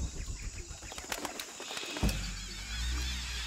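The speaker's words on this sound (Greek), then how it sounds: "είναι πουλιά, εντάξει." Birds moving about in the Shadow of the Tomb Raider video game, with soft flapping and rustling bursts through the first two seconds, then a quieter ambient rumble.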